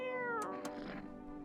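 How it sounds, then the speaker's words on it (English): A single cat meow in the video game No I Am Not A Human, a short, clear, close tonal cry that rises and fades within about a second. "Did we pet the cat?"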